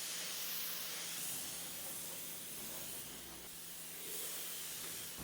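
A car is rinsed down with water after a foam wash while being detailed, a steady broad hiss of spray that swells and eases, heard close and alone.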